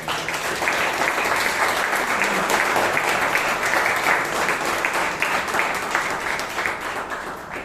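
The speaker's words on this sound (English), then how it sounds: "Can we have a huge round of applause?" A Toastmasters meeting audience breaks into steady, dense applause, loud and continuous throughout, with many hands clapping at once in a room.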